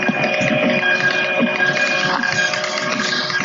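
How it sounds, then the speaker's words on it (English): A Titan series industrial thermal printer runs while printing a label, giving a continuous mechanical whir with small clicks and a steady tonal whine, loud and close, with no talk. "The Titan series industrial printer"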